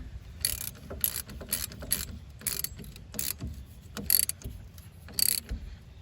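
A ratchet tightens the wheel hub bolts on a 2010 Hyundai Sonata during a rear hub and wheel bearing replacement, giving repeated bursts of fast, crisp clicking, close up and separated by short pauses, with no speech.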